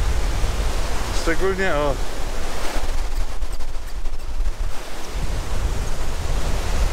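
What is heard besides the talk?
wind blowing in the mountains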